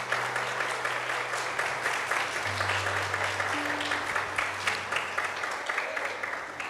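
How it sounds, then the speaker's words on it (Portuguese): Sustained applause from a church congregation fills the room, steady clapping throughout with a low hum underneath and no talking. "Pode aplaudir ao Senhor"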